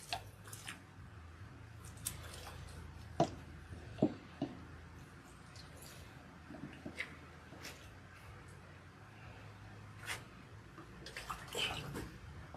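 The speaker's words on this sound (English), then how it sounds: "Now we are rinsing." Water runs while oil is rinsed out of hair, giving a soft, steady splashing flow with scattered squishy handling noises and a few sharper knocks, fairly quiet and without talk.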